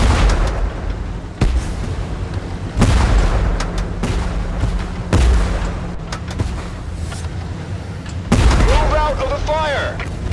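Tank cannon fire in the Tank Force video game during a 3 vs 3 battle: several loud booming blasts at irregular intervals over a constant engine rumble, with faint voices in the background.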